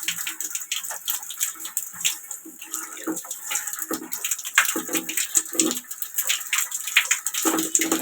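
Water running and splashing, a fluctuating stream with gurgles and spatters, close by and continuous with no clear speech.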